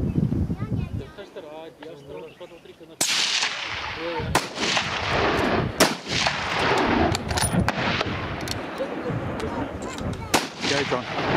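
Hunting rifles firing at an outdoor shooting competition in Gariep, South Africa, with several loud, sharp shots spaced a few seconds apart over continuous talk and background voices.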